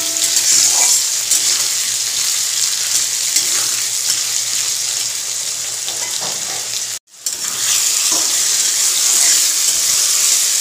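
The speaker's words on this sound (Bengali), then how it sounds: "বেশ কিছুক্ষণ ধরে পেঁয়াজটাকে নাড়িয়ে চাড়িয়ে ভাজছি যাতে পুড়ে না ওঠে" Onions frying in a pan while being stirred make a loud, steady sizzle right up close, with only one brief break partway through.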